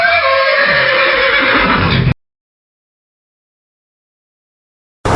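A wild Australian horse, a brumby, lets out a loud, close, shrill neigh that shakes and falls for about two seconds. Silence follows.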